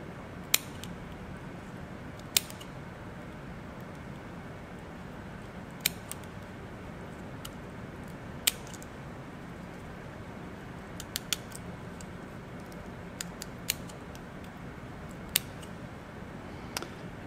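Dissecting scissors snipping through a crayfish shell, sparse sharp clicks and snips spaced irregularly over a quiet room hum, faint and close with no talking.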